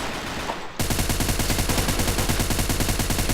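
Rapid automatic gunfire in the video game BeGone, loud and continuous, with evenly spaced shots after a brief burst of noise at the start and no talking.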